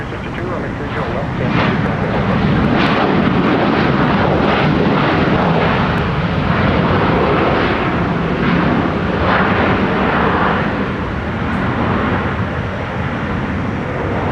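An airliner at Minneapolis–St. Paul Airport roars steadily down runway 30 right on takeoff, a loud sustained engine drone throughout, with air traffic control radio talk over it.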